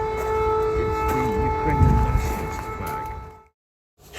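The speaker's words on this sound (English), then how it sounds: "sirens running in the background." Air raid sirens wailing over Lviv, Ukraine, with a loud sustained tone that holds steady and then cuts off abruptly into near silence before a sound returns at the very end.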